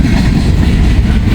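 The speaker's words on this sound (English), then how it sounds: "But whatever this train is, it's really short." A short freight train with heritage-painted locomotives rolling through Hamilton, a loud close low rumble of engines and wheels on rail, steady and unbroken.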